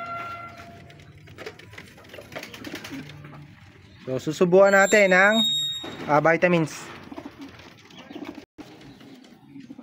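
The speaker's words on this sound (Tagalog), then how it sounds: "ito yung mga young bird natin na kalapati na susubuan natin" Young pigeons coo in two loud, throaty, wavering bursts up close, while someone talks before and after the calls.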